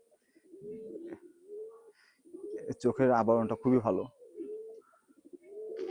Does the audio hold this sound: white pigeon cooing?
yes